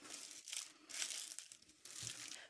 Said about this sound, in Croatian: stavite kesu ili foliju i ostavite da se hladi